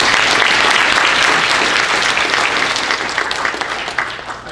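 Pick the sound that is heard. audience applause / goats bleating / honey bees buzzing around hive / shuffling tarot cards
audience applause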